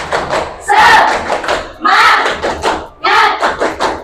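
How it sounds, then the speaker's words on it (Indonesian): A class performs tepuk semangat, a rhythmic spirit clap: loud bursts of patterned clapping in three groups, mixed with shouted group chanting between the beats. "Silahkan tepuk semangat biar semangat pagi hari ini"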